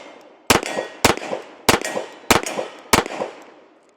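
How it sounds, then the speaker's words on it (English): Five sharp, loud .45 ACP pistol shots from a stainless Sig 1911 X with a threaded barrel, fired at a steady pace about half a second apart, each with a short ringing tail. "Let's go ahead and take a few shots with her."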